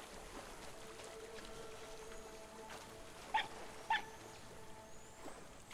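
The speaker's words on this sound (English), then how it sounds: "Why do you bark up there, Fox?" A fox in the video game Rime gives two short barks a moment apart, moderately close and not loud, over a quiet ambient game soundscape.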